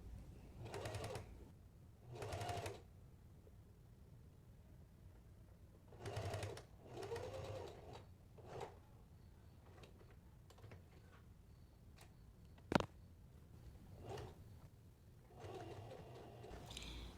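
A sewing machine stitches close to the edges of a folded 3/4-inch vinyl bag strap in several short bursts of whirring, separated by quiet pauses. A sharp single click sounds partway through.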